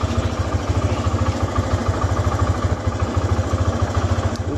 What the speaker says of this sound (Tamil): அந்த வண்டியை வார்ம் அப் பண்ணுறதை பண்ணிக்கிட்டு இருக்கேன்